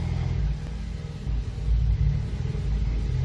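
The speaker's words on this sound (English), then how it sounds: "it's misfiring like crazy on number 4" Ford EcoBoost engine idling after a cold start with a cylinder misfire, a steady close low rumble with uneven lumpy pulses and slight rises in level, no talking.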